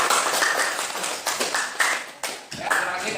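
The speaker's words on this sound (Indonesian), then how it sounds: "Kita beri aplaus dulu" Audience applause after a group presentation in a classroom: steady, fairly loud clapping from many hands that swells and fades in waves, with a few voices murmuring underneath.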